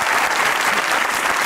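Studio audience at a Pakistani comedy talk show bursts into steady, dense applause, loud and continuous throughout with no talk over it.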